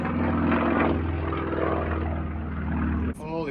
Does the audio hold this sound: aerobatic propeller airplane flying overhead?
yes